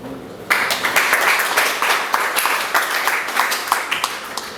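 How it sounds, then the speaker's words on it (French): Sustained audience applause with dense, irregular clapping, loud and steady after a quiet opening moment, at a youth event on environmental protection and young entrepreneurs. "applaudir encore"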